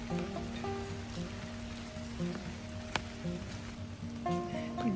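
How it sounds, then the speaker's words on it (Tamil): Steady rain patters over a Dresden city square in Germany, a dense even hiss of drops on paving with faint tonal hums from the surroundings, continuous with no voices. "இங்கே பாருங்க, மழை பெஞ்சிக்கிட்டு இருக்கு."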